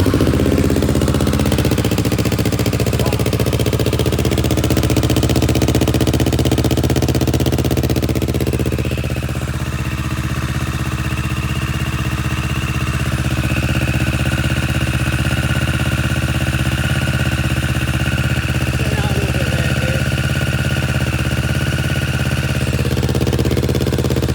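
A Kawasaki Z650RS motorcycle with an AliExpress full-system exhaust, dB killer fitted, idles close and loud. Its steady rumble holds unbroken for the whole stretch, with no talking.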